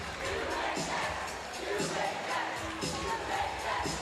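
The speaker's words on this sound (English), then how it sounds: "UHS is the cry from the corner for Lions fans" Basketball fans at a high school district championship game chant "UHS" in a rhythmic, repeated crowd cry, roughly once a second, loud and sustained over the arena noise.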